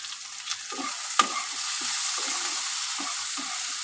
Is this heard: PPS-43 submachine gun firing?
no